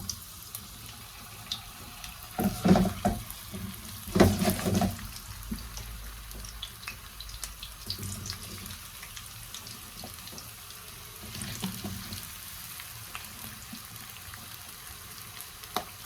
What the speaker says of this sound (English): Potatoes will stick, hence we have to keep on stirring it and moving it around.